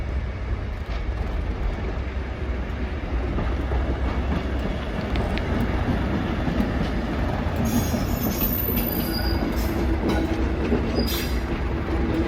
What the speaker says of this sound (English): And here comes the service train.